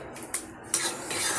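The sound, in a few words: stirring cooked moong dal into greens kootu in a pot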